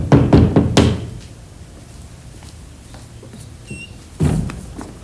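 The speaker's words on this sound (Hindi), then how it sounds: "मेरा द्वार खटखटाया।" Knuckles rap on a house door in a comedy sketch: a quick burst of four loud, sharp knocks, a quiet pause, then another firm knock near the end.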